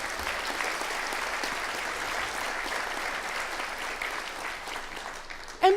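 An audience at a 2014 floodplain managers' awards luncheon gives a full round of applause, dense and sustained clapping in an indoor room that fills the whole stretch before cutting off abruptly at the end.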